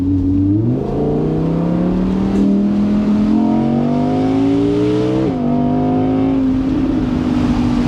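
Naturally aspirated 612 bhp Audi R8 V10 Performance Spyder engine revving loud and close, its note climbing steadily through the gears with two brief dips at the shifts.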